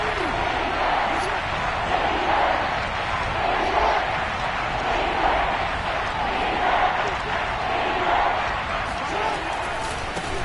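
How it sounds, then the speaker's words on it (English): An NFL football stadium crowd roars during a Dolphins game on third and short, a steady, dense wall of cheering and noise that holds at full volume throughout. "Here comes a big one as this crowd gets up making some noise."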